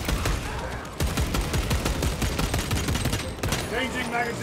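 An assault rifle fires on full auto in Warhammer 40K: Space Marine 2, a dense, continuous rattle of rapid shots lasting several seconds and easing off near the end as a voice comes in.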